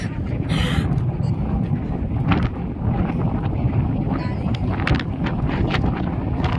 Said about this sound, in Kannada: ಗಾಳಿ ಕೇಳ್ಸವಲ್ದೇನು